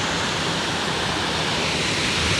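Sea waves washing in at Clifton Beach in Karachi, a steady, loud broadband wash of surf with no break across the short stretch, and no voices over it.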